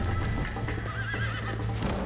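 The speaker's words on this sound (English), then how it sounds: "My horse doesn't respect me." A horse whinnies in Red Dead Redemption, a wavering neigh rising over a steady clip-clop of hooves and low in-game ambience, fairly close and continuous.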